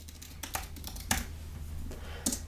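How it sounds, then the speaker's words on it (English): Fingers tap quietly and irregularly on a computer keyboard, a close run of light clicks with a few sharper keystrokes and short pauses. "For this, I'm going to type Hubs Cloud Community Edition"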